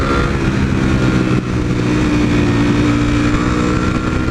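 A V4 motorcycle engine roars at full throttle in third or fourth gear, a loud, steady, sustained howl that dips briefly before pulling on unbroken.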